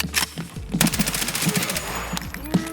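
Rapid bursts of submachine gun fire in the video game Escape From Tarkov, loud, close, sharp reports in quick succession with short pauses between strings of shots.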